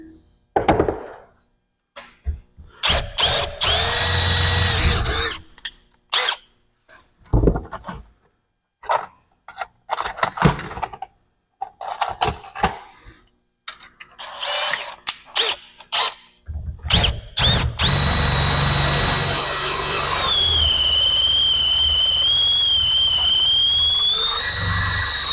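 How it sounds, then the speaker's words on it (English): A power drill whirs in repeated short bursts with pauses between, drilling a hole in garage door parts, then runs continuously with a high whine toward the end, loud and close. "So I'm just drilling a hole"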